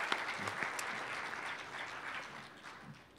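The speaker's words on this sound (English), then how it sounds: "Let's give Bob a round of applause." A conference audience in Tucson applauds the speaker Bob after his plenary talk. The clapping is dense and sustained and tapers off slightly toward the end.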